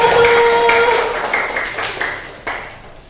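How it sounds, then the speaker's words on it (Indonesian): A classroom of pupils claps for a classmate named Putu, a burst of brisk clapping that starts loud and gradually thins out, with a few scattered claps lingering near the end. "Baik, tepuk tangan untuk Putu"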